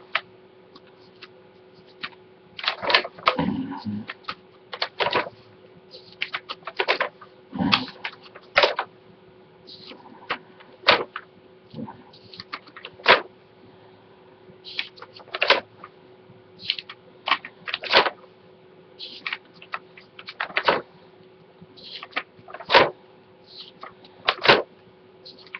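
Pages of an England 2002 Merlin World Cup sticker album being flicked through, giving a steady run of short, crisp paper flips and taps at close range with no talking.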